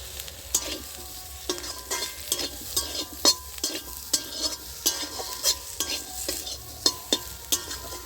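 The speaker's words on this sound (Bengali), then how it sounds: "আমি এগুলো রুখা কড়াই একটু নেড়ে চেড়ে নিচ্ছি" A spatula scrapes and clacks against a dry pan, stirring tomatoes in repeated irregular strokes, with a light sizzle underneath.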